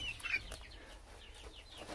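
Eight-week-old Exchequer Leghorn chicks give soft clucks and a few brief chirps, faint and close, over a quiet background.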